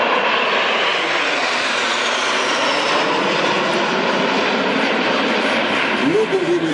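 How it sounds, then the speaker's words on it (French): An Alpha Jet of the Patrouille de France roars past at an airshow, a loud continuous jet engine drone that fills the scene with a sweeping pitch shift near the end. "L'Alpha Jet, un petit mot sur l'Alpha Jet, c'est un avion de facilité."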